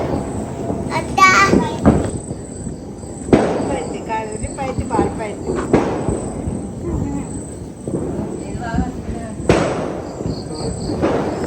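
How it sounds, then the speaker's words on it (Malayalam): Firecrackers burst at a family Vishu celebration: several loud, sharp bangs spaced a few seconds apart, each with a crackling tail, while children's voices chatter nearby. "ഇതാ നമ്മളും വെടിപൊട്ടിക്കുന്ന"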